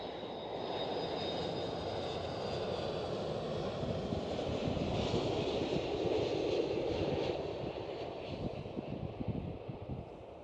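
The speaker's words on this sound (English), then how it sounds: "Next one up is KLM A330." KLM Airbus A330 engines rumbling at Amsterdam Schiphol Airport, a sustained distant roar that swells slightly and then eases off toward the end.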